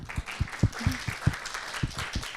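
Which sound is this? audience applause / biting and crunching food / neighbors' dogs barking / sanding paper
audience applause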